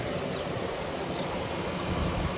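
Chrysler 3.6 engine in a 2015 Dodge Journey with a reported tick, running steadily at idle as a close, continuous mechanical hum with faint irregular clatter and no talking.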